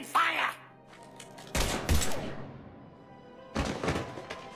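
Gunfire erupts in the Mass Effect 3 game on the Citadel: two loud bursts of shots in the middle, then a third volley near the end, with game sounds and some voice-like content between them.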